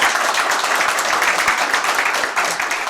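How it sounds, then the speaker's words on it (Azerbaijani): A crowd claps and applauds steadily throughout at a meeting with actor Rasim Balayev in San Jose, a dense, even wash of clapping with no pauses. "Gəlin dəyərli sənətkarımızı bir daha alqışlayaq"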